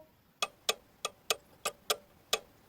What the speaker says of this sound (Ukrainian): цокання годинника